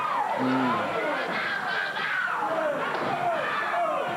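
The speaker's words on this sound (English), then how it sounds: "Do you hear the crowd?" Arena crowd roaring and cheering steadily through an old-school wrestling broadcast as a wrestler bleeds, loud and continuous with a commentator's voice speaking over it.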